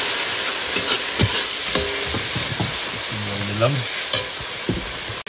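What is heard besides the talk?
water added to sizzling spiced chicken masala in pan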